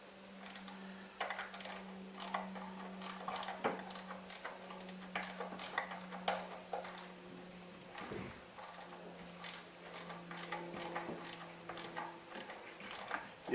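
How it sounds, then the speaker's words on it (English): A socket wrench works on the throttle body bolts of a 2005 Town and Country, giving a quiet, rapid ratcheting tick in repeated bursts with small metallic clinks between them. "So you're going to take your socket again."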